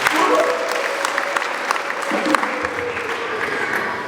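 A wedding audience claps together in a close, steady burst of applause that runs for a few seconds, with some crowd murmur beneath it.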